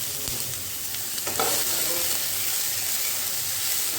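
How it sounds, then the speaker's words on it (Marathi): Ivy gourd (tondli) pan-roasts in a little oil with a soft, continuous sizzle and hiss. Occasional light stirring scrapes sit over the quiet, steady frying. "तोंडली थोडीशी अर्धी अशी भाजून घ्यायची. फ्राय नाही म्हणणार कारण हे तेल भरपूर नाही आहे"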